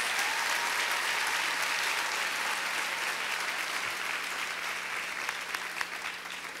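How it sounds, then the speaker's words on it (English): Sustained applause from a sizable crowd at a fashion show, steady and dense clapping that tapers slightly toward the end. "Let's give a round of applause for all of our models."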